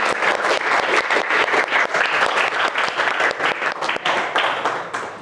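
A school audience applauds a poetry reading with dense, loud, continuous clapping from many hands that eases slightly toward the end.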